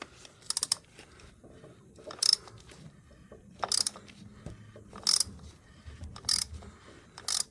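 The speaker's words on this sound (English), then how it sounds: "Just gonna go one full rotation, then we can pull this socket off." Socket ratchet loosening the oil filter on a Harley-Davidson Road Glide 103 Twin Cam, about six short bursts of fast clicking separated by quiet gaps, close and fairly soft.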